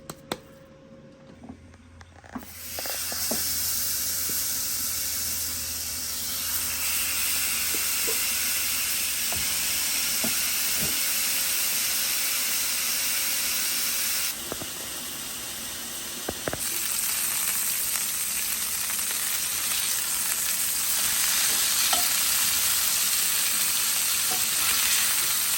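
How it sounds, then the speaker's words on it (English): Burger patties, one-third pound each, sizzle loudly in a hot cast iron skillet, a dense steady frying hiss that jumps up as the meat hits the pan and holds for the rest of the time with small pops and crackles. "put them in a hot cast iron skillet"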